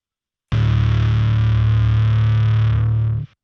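A single low bass guitar note through an Electro-Harmonix Hell Melter distortion pedal at full gain rings out loud and fuzzy, sustained for about three seconds before cutting off.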